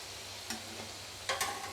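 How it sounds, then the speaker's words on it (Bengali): Folded dough sweets (angul goja) deep frying in oil make a soft sizzle, broken by a few brief stirring or scraping clicks over less than two seconds. "এটা ভাজতে ভাজতে আমি ততক্ষণ আর একটা আছে, এটা বেলে নিই।"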